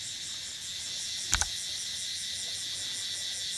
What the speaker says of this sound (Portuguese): cigarras enlouquecidas, meu Deus